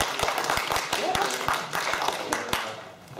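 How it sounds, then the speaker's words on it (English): Scattered hand clapping from a fan convention panel audience, a light uneven patter of claps that fades toward the end, with some voices murmuring underneath. "Round of applause."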